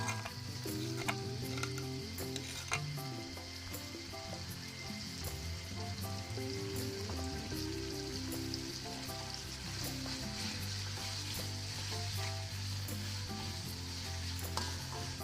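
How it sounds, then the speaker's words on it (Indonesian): Freshly pounded ground spice paste, the base for spicy-sweet chicken feet, fries in hot oil with a loud, dense, unbroken sizzle and occasional light clicks and ticks from the pan, close up and without speech. "kita masukkan bumbu yang sudah kita ulek tadi ke dalam minyak"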